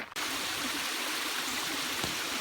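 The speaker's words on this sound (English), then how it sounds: "I can hear the fall" A small waterfall cascade tumbles beside a river in a wooded gorge, producing a continuous close, full rush of splashing water with no talking.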